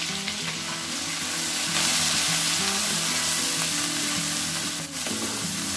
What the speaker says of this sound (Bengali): পেঁয়াজ পেস্ট গুলো তেলের মধ্যে গুলে দিলাম।